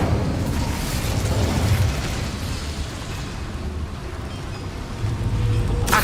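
Incendio fire spell cast in the Hogwarts Legacy video game, a broad whooshing, crackling fiery burst that roars steadily for several seconds inside a boiler room, swelling again near the end, with no talking.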